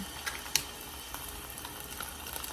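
Quiet frying of Korean BBQ in a frying pan, a soft continuous sizzle with a couple of small pops and clicks, no voices.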